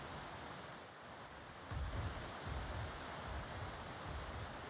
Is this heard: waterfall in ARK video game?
yes